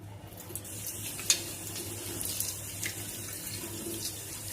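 Tap water running into a sink while hair removal soap is rinsed off skin, a steady close splashing stream with small spatters and drips throughout.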